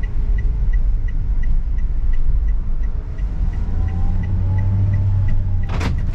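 A Toyota Calya driven on a public road by a learner, its engine humming low and steady with a slowly rising tone as it picks up speed, a rhythmic ticking alongside and a short sharp burst near the end.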